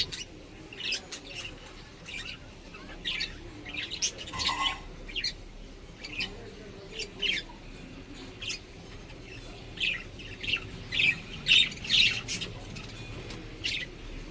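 Albino baby budgies in a cage give bursts of sharp chirps and squawks, with short calls coming in irregular clusters and brief quiet gaps between them.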